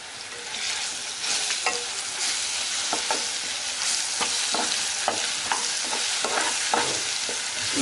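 Ginger, garlic and chili paste sautéing with browned onions in a pan for Agri mutton rassa, a steady sizzle with repeated scraping stirs of a spoon, close and continuous, no voices.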